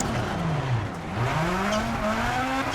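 A rally car in EA Sports WRC revs hard in first gear, its engine pitch falling and then climbing again, with tire noise under it, close and loud with no talk.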